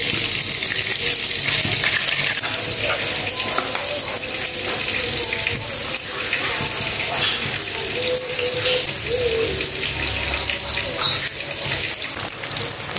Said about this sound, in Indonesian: tak goreng pakai tepung. Ini tepung sajiku atau tepung yang sudah jadi.